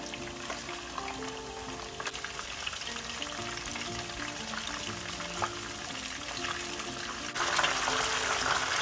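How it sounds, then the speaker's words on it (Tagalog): Fish frying for escabeche in hot oil in a pan, a loud continuous sizzle and crackle throughout that swells louder toward the end, with no talking. "So, mainit na po yung aking mantika. Lalagay ko na po ito natin."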